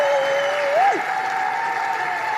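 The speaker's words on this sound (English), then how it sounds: "Big cheer for that." A crowd at a political talk event breaks into applause and cheering, a steady wash of clapping heard with a voice running over it.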